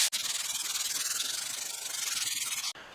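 Sandpaper rubs across wood for a Telecaster guitar body build, a steady rapid back-and-forth rasping in even strokes, close and continuous, stopping briefly near the end.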